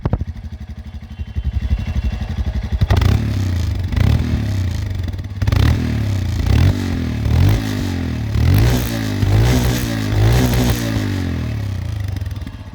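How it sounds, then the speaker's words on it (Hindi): A 2022 Royal Enfield Scram 411 motorcycle engine idles steadily with a deep, throbbing rumble, blipped by several short revs in a row, close by with no talking. "तो ये है आपकी स्क्रैम 411 की आवाज़"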